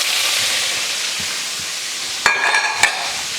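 Chopped pork offcuts, three slices of bacon and two pieces of liver stirred in a hot pan, a steady close sizzle with a couple of sharp scraping clinks near the end.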